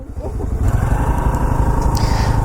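A motorcycle with two riders aboard pulls away, its engine rumbling loud and close with a steady pulsing throb as it sets off.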